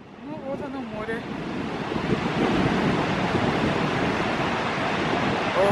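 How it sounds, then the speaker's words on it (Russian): Sea waves and strong wind on a cold winter beach at Jurmala make a broad, steady roar that grows louder and fills the scene, with a brief voice near the start. "Ну вот оно, море."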